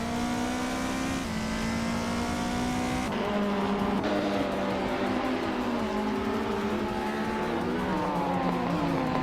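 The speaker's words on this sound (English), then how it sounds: "Maldox FDF is driving a 1994 Opel Astra F GSI" A 1994 Opel Astra F GSI racing in a video game: a loud, continuous engine drone that climbs and drops through gear changes, with faint tire noise and no talk.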